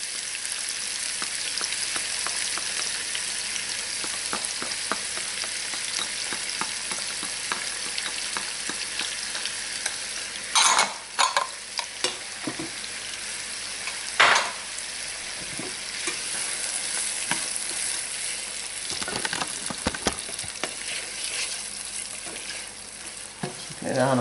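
Celery and onion sauté in a hot pan with a steady close sizzle, broken by occasional scrapes and clacks of a utensil stirring, and no talk.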